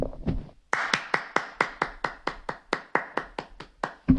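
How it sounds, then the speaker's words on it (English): One person claps hands in a steady, evenly spaced rhythm, about fifteen sharp close claps in a row after a brief scuffle at the start. "everybody clap your hands"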